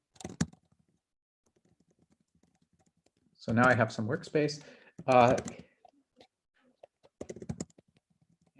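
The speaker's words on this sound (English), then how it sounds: "And here I'm typing in the path to the Lxd file." Keys clicking on a computer keyboard while a file path is typed, in short bursts at the start and end, with a person speaking between them.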